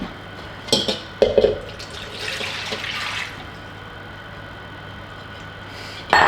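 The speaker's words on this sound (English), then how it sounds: "I warmed up the milk slightly, and now I'm gonna pour it into our margarine" Warmed milk pours into margarine in a home kitchen, a brief liquid splash followed by a soft steady pour, with a few clinks and knocks before and after.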